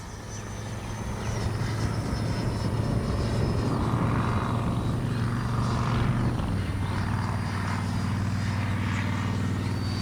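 A Freewing 90mm F-15 RC jet comes in to land, its electric ducted fan whining loudly and steadily close by as it descends and rolls out, no voices.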